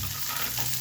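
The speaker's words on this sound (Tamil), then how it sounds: "அதோட நறுக்கின வெங்காயம் சேர்த்துக்கிறேன்." A soft, steady sizzle of chopped onions frying in hot oil with curry leaves, close and continuous under a low hum.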